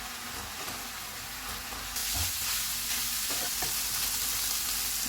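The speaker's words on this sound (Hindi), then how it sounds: "पाँच मिनट के बाद मसाले डालेंगे। इनको 2 से 3 मिनट तक भूनेंगे।" Spices roast in hot oil in a pan, a steady close sizzle that jumps louder and brighter partway through, with a few scraping stirs.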